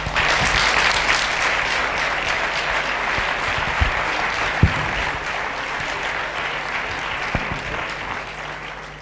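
An audience applauds at an economics and politics talk, dense sustained clapping filling the hall at an even level throughout with a few sharper claps standing out.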